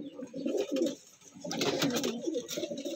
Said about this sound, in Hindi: उड़ा रहे हैं कबूतर